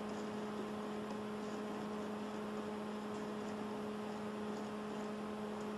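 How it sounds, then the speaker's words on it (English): An automatic L-type film sealing and shrink packaging machine runs with a steady, unbroken whirring hum and a faint tonal drone, with no talk. "sealer and shrinking machine. This is an automatic one."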